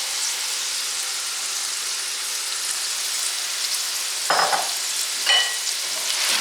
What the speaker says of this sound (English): now I'm going to add the yellow squash and zucchini